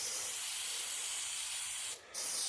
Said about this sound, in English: Spraying that in there.